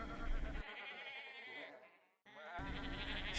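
A sheep bleats with a wavering, quavering voice, fairly faint, heard alone with a brief quiet gap in the middle.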